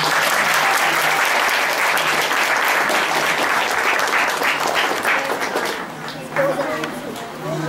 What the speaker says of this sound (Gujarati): બધા માટે એકવાર તાળીઓ વગાડો